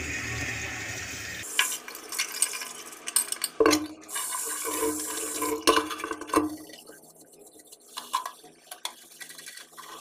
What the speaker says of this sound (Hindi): फाइनली यार हमारा बर्तन धोना हो गया